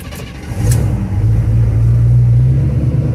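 A 1974 Chevy pickup engine turns over and catches, then settles into a loud, steady low rumble that keeps running on its own at close range.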